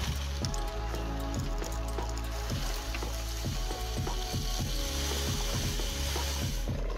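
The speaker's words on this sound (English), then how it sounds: "we're gonna add some more caustic soda inside" Caustic soda is poured into a rusty motorcycle fuel tank, giving a steady liquid fizzing and bubbling reaction under a run of repeated hollow knocks and clunks from the metal tank, close and continuous for several seconds.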